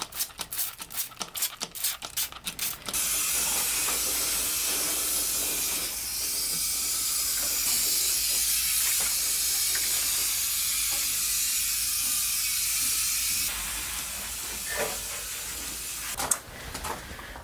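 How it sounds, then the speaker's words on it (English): A spray bottle misting pitcher plants gives a steady spray hiss for several seconds after a few quick squirts, fading out near the end, close and fairly loud. "I gotta spray them too."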